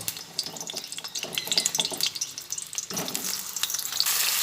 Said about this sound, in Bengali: সেই পটলগুলো দিয়ে দিলাম দিয়ে পটলগুলোকে আমি ভেজে নেব